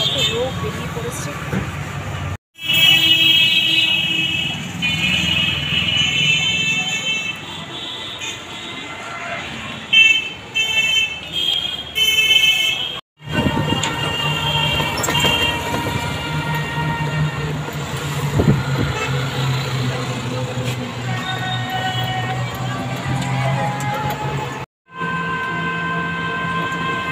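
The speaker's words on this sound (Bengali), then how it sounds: "হোলির পরে রাস্তায় কি হাল দেখতে পাচ্ছ, কত লোক বেরিয়ে পড়েছে।" A street after the Holi festival is busy with traffic and crowds, with loud continuous vehicle rumble and rattling, horns and mixed voices, interrupted by a few brief dropouts.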